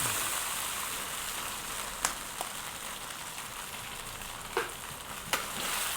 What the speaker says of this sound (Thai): ผัดนิดเดียวครับ แล้วก็ตัก ใส่ไข่เลยยอง